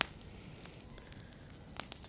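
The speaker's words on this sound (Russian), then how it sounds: "Огонь." Outdoor campfire burning with sparse crackles and sharp pops over a steady soft roar, fairly close and without voices.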